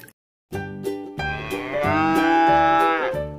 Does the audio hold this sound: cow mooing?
yes